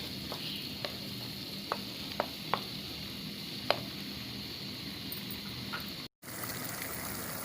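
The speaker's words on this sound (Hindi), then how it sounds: "मसाला हमारा भून रहा है, टमाटर पेस्ट और प्याज का पेस्ट" Tomato and onion paste masala frying in a pan, with ginger and garlic, for smoky dahi kaleji: a steady close sizzle throughout, broken by a few light spoon taps and one brief dropout near the end.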